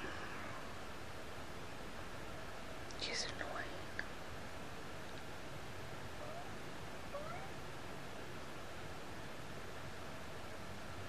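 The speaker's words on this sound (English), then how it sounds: "That's my cat." A pet cat meows indoors, a couple of brief faint calls under a steady quiet hiss of room noise.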